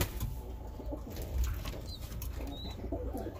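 Birmingham roller pigeons coo softly and intermittently against a steady, noisy outdoor background, with occasional faint chirps and no talking.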